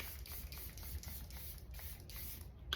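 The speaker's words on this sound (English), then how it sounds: "Charlotte Tilbury Airbrush Flawless Setting Spray." Soft, repeated misting sprays of Charlotte Tilbury Airbrush Flawless Setting Spray hiss in quick bursts during bridal makeup, faint and close, with light rustling between them.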